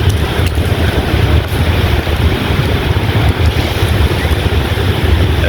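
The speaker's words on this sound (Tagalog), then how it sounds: "lakas ng hangin ah." Strong wind buffeting a microphone outdoors in Bonifacio Global City, Taguig, a loud continuous low roar with gusty rumble throughout, no speech.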